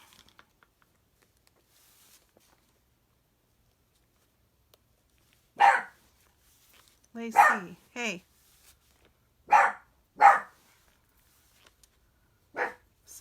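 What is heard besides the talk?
dog barking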